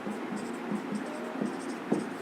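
Marker or chalk writing on a board during a biology lesson on the cell nucleus, with soft scratchy strokes in short bursts over faint room tone and no talking.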